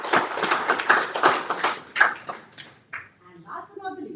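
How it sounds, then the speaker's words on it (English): An audience at a live-streamed event in Geneva breaks into a short burst of applause, dense clapping that fades after a couple of seconds as a speaker's voice resumes. "A round of applause for her"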